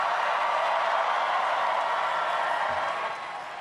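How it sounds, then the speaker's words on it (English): Audience applause at an election-night speech in Virginia: a dense, steady wash of clapping from a large crowd that eases off toward the end. "please give them all a round of applause"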